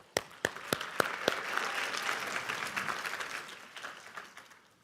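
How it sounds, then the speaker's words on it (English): Conference audience applause at a closing plenary session, beginning with a few sharp, separate claps that quickly swell into dense sustained clapping from the whole room, then gradually thinning out toward the end. "So let me hear you give a round of applause and thank you for being here."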